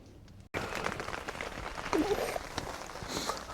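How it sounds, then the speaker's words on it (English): Steady morning rain pattering on a nearby old tent while camping, a dense continuous hiss of drops after a brief quiet start. "It's raining this morning"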